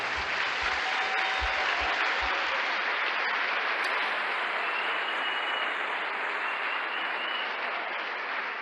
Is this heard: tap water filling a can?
no